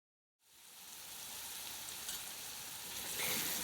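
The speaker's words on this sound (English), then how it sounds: "we're then gonna add our chopped carrots and celery, and we're gonna cook all that together for about 5 minutes" Chopped carrots and celery sizzle steadily in melted butter for soup, a dense, even crackle that swells in after a short silence and grows slightly louder toward the end.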